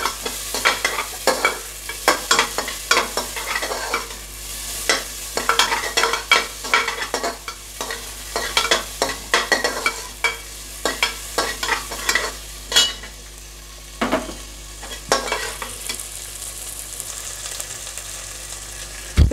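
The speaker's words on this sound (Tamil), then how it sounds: "ஸோ இதை ஒரு 20 செகண்ட் வதக்கி விடுங்க." Chopped onion and green chilies sautéing in a pan, with busy, near-continuous spatula scrapes and clatter over a loud, steady frying sizzle that runs throughout, without any talk.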